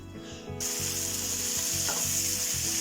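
Sliced onion drops into hot oil with crisp garlic and curry leaves, setting off a sudden loud, steady hiss of frying that holds close and strong, with a faint low hum underneath.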